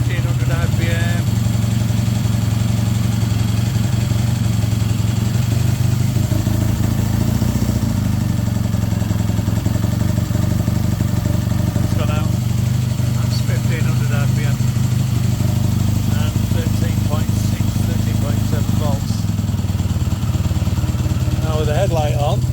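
Triumph T140/T120 twin motorcycle engine idling steadily at about 1500 RPM, a continuous low mechanical thrum with light clatter, with a person talking over it.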